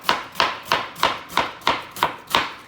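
A knife slices through half a cabbage on a cutting board in eight crisp, evenly spaced chops. The strokes are close and loud, with no voices.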